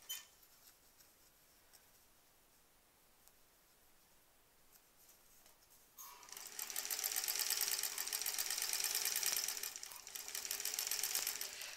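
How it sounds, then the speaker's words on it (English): A sewing machine stitching quilt block seams starts after a quiet stretch and runs as a steady, fast, whirring hum, close and continuous, with a brief slowdown before carrying on. "I think I'm sewing my seam allowances a bit small"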